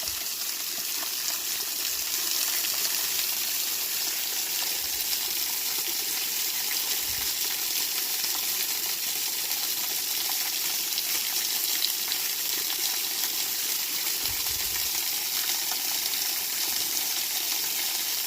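Water poured and splashing over oxidized ore rocks taken from an outcrop, a steady broadband rush that keeps going for the whole stretch, with a few low thumps of rock being handled underneath.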